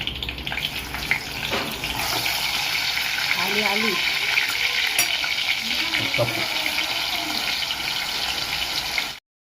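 Curry leaves fry in hot oil for a Marathi bombil (Bombay duck) dish, producing a loud, dense, continuous crackling sizzle with faint muffled vocal sounds in between, ending abruptly.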